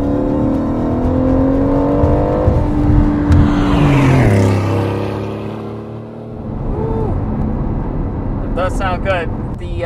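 An Aston Martin sports car engine revs and rises in pitch, then settles into a lower drone, with a higher whine and short mechanical chirps near the end.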